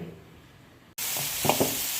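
Elephant foot yam slices frying in a hot pan: a steady loud hiss of sizzling oil jumps in abruptly after a near-silent second, with a few brief stirring knocks on top.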